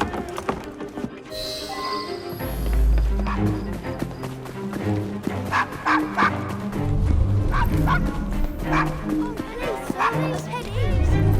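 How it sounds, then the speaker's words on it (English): A dog barks and yips in Assassin's Creed Syndicate, several short barks scattered under talking voices, with hoof clip-clops and street noise around them. "Nice doggy."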